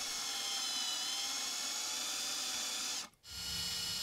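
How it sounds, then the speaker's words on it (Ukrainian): A power drill bores holes into the sides of a homemade lead-cast fishing lure, a steady high whine running loud and continuous, then dropping out briefly before resuming. "Свердлимо по боках отвори."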